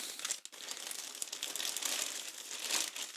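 A plastic Temu shipping bag holding budget camera gear crinkles and rustles continuously up close as it is handled and opened.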